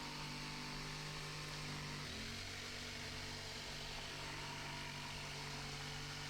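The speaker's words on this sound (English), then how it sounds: "So just cutting that out of the jigsaw." A jigsaw cuts a cloud shape from spare plywood, its motor whining steadily throughout, loud and continuous with a brief dip in pitch partway through as the blade works the curve.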